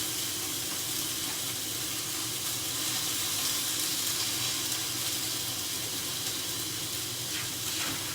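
Steak sears in a hot pan, being sealed on both sides, giving a continuous loud sizzle and hiss that holds steady from start to finish with no talking.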